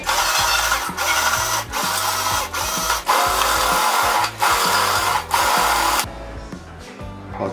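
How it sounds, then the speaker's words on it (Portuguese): A low-battery cordless drill drives a malt grain mill in a steady, loud grinding whir with a rhythmic pulse, running continuously for about six seconds before cutting off to a quieter hum. "Tá difícil assim porque a parafusadeira tá quase sem bateria."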